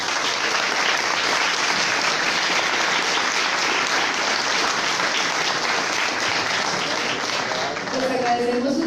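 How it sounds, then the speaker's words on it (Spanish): Sustained applause fills the hall after a lecture on Central American independence, a dense, steady wash of clapping from a large audience throughout, with a voice coming in faintly near the end. "un nuevo aplauso, por favor."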